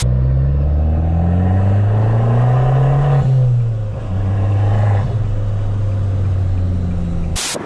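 A Fiat Abarth small four-cylinder engine revs up and down nearby, rising to a strained peak then dropping back to a steady drone, loud and throaty.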